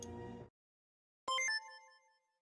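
A phone text message alert from the video game Digimon Survive: a bright, short multi-tone electronic chime that rings clearly alone after a brief burst of game music and then fades.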